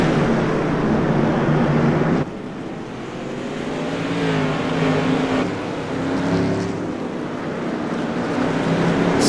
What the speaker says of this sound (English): Brian Neff in the Winn-Dixie machine crosses the start-finish line and works his way now into the backstretch.